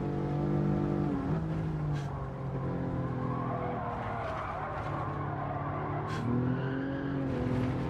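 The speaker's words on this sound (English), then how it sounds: "That right hand inside tyre just spun up there big time." A race car on a time-trial lap roars at steady high revs while the right inside tyre spins up and squeals, the engine note dipping and rising again, loud and close throughout.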